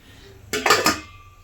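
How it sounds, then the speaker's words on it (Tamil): A metal lid clatters onto a pot of vegetable soup in a quick cluster of three or four close clinks, then a quiet tail. "இப்போ நம்ம மூடி போட்டு மூடி வச்சிடலாங்க."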